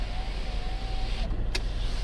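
A Mercedes G63 AMG power window runs with a thin, steady electric motor whine for about a second, then stops with a short click, all over a constant low engine rumble inside the cabin.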